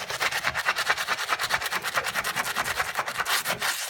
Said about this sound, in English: so I'm just having to scrub